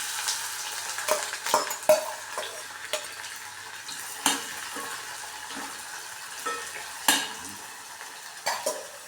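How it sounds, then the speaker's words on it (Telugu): Onions fry in hot oil for a mutton curry, a soft continuous sizzle under repeated scraping stirs and light pan knocks, close and moderately quiet. "కూరలోకి ఉల్లిపాయలు వేస్తున్నాను"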